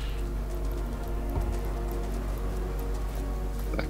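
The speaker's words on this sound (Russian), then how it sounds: "Тут опять дожди." Steady rain falls on the ground in a Divinity: Original Sin game scene, a dense even hiss with occasional sharper drips and a low ambient rumble, heard alone without talk.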